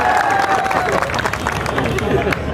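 An audience claps and cheers at a public speaking event in Meerut with leaders seated on stage. The dense applause is steady and loud, with crowd murmur underneath.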